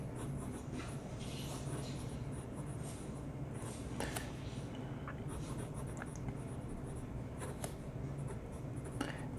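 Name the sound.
Penbbs 268 fountain pen writing on paper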